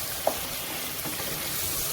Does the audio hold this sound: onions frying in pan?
yes